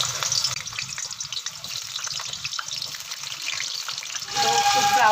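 Small diced potatoes frying until brown in a pan, a dense, close sizzle with crackling bursts and light stirring, growing a little louder and brighter toward the end.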